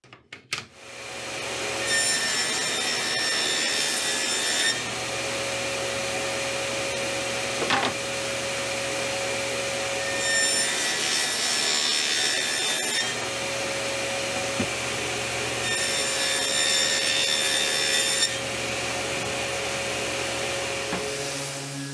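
A table saw fitted with a thicker, flat-toothed blade cuts slots into plywood: a steady, loud motor whine runs throughout, rising into three harsher cutting passes spaced several seconds apart.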